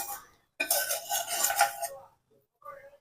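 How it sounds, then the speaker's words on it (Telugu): A spoon scrapes cumin stuck to a pan while making coconut chutney, a close metallic rasp in two short bursts with a quiet gap between. "సో ఈ ప్యాన్కి అంటుకొని ఉన్న జీలకర్ర మొత్తం కూడా ఇలా నీట్గా తీసి వేసుకోవాలి"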